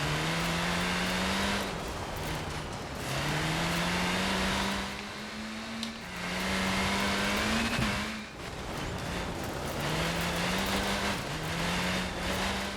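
A race car in K74 Rivals on the Cliffside Scramble track at Fortune Island, its engine droning and rising through gear changes with brief lifts and tire noise, steady and close throughout.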